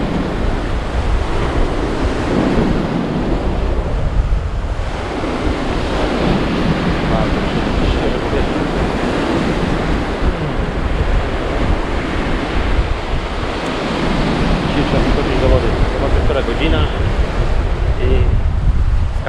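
Ocean waves churn sand at the shoreline at Candelaria, Tenerife, a continuous loud roar of surf with swelling surges, heavy wind buffeting the microphone throughout.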